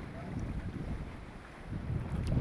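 A boat motors toward a small secluded beach off Krabi, Thailand, giving a steady low engine rumble mixed with wind buffeting the microphone, with no talking.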